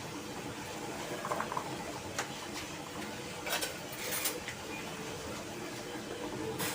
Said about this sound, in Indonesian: ini tidak masalah karena airnya sudah mendidih